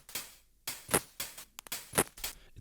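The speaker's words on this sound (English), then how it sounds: "I've turned the frequency all the way up to give it a really ringy sound" An electronic music layer run through a ring modulator with its frequency turned fully up, giving harsh, metallic, crunchy bursts in an uneven rhythm of about six loud hits separated by short gaps, heard alone with no voices.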